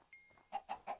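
Minecraft chickens clucking, with a short run of three or four quick clucks in an uneven rhythm, fairly faint and with no talking over them.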